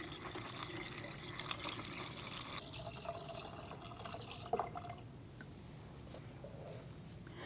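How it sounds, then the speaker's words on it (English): Faint, steady trickle and gurgle of coolant poured through a funnel into the radiator of a 2003-2007 Cadillac CTS 3.6L V6, with a quieter stretch of dripping near the end. "So we're going to add the manufacturer's specified coolant in this area."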